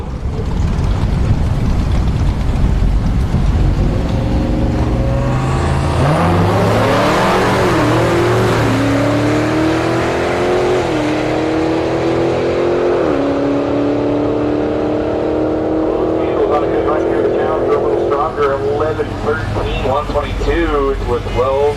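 A Hellcat on drag radials and skinnies races a turbocharged Tahoe down a drag strip at Orlando Speed World, engines roaring and rising in pitch as they launch and pull away, with an announcer talking throughout.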